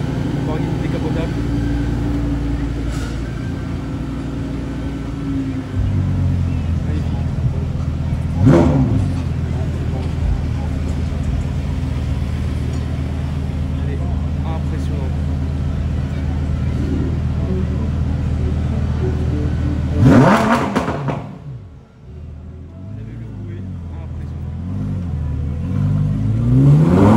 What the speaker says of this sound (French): Belle Lamborghini. Elle fait un de ses bruits.